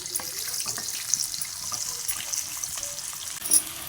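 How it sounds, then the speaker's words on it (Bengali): Sliced onions fry in oil in a pan while mutton curry is cooked. A faint, steady hiss and sizzle with light crackles runs throughout, quiet and close, and no voices are heard. "পেঁয়াজগুলোকে আমি ভালো করে ভেজে নেব।"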